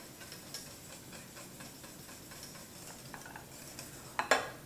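A spoon stirs creamy Kahlua coffee pie filling in a bowl, making soft, repeated scraping and swishing strokes close by, with a couple of sharper clinks near the end.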